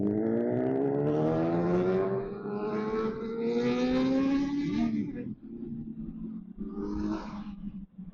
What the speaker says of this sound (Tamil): ரொம்ப டிராஃபிக்.